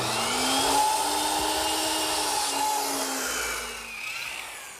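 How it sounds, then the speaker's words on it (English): A miter saw cutting a piece of wood at about 33 degrees to follow a table's curve, with a loud, steady whine and a rasping cut that tapers off near the end. "now I'm going to bring it over to my miter box and cut it back at about 33 degrees"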